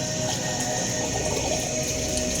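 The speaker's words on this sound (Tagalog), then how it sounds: "Una, hugasan gamit ang tubig, lagyan ng sabon," Water runs steadily from a tap while a drinking glass is washed, a continuous close splashing flow with no voices.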